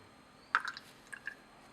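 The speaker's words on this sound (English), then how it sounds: "Added a little more water and now warming gently." Water added to a laboratory beaker, a brief, faint liquid splash and a couple of soft drips in a quiet room.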